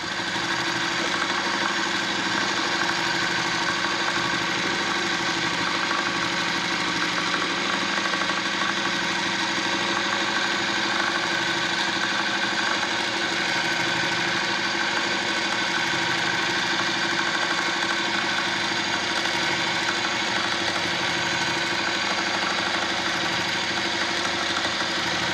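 A Voyager longarm quilting machine stitches a meander pattern, its motor humming steadily and evenly at close range for the whole stretch, with no voices over it.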